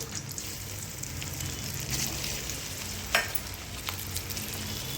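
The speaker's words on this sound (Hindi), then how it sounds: "तो इस पनीर को भी हम हल्का सा तेल में फ्राई कर लेते हैं।" Homemade paneer fries in oil in a kadai with a quiet, constant hissing sizzle, broken by a few sharp pops and a brief stirring scrape.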